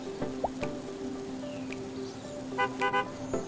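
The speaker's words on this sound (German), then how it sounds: "Tut, tut, tut. Wozu ist die Hupe gut?" Car horn in the video game Youtubers Life 2, sounding as a quick cluster of short toots near the end over a steady low in-game hum.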